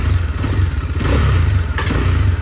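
A Bajaj Dominar 400 motorcycle engine runs close by with a steady low rumble and slight revving swells, continuous throughout with no talking.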